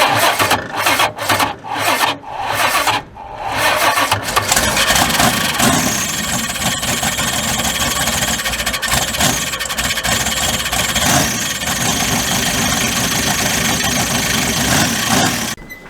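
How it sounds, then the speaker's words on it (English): A bog truck's engine cranks on the starter in several short bursts, catches, and settles into a loud, rough, steady idle close by. "Alright, take 3 with the starter. See if she doesn't grind this time."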